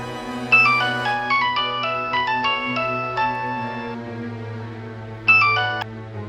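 A mobile phone ringtone plays a bright repeating melodic pattern over a low steady hum, pausing briefly before the tune starts again.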